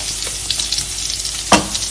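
Onions and green chili fry in a pan for white sauce pasta, giving a continuous bright sizzle with a sharp burst of crackling near the end as the pan is stirred.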